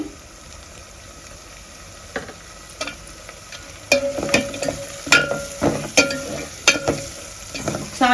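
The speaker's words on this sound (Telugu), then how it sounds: "ఇప్పుడు ఎర్రగడ్డలు అయితే వేసుకుందాం మామూలుగానే కట్ చేసుకోండి" Onions fry in a pan for a tangy pepper and tomato rasam, with a soft sizzle and bursts of stirring scrapes that grow louder and more frequent partway through, all close by and without talk.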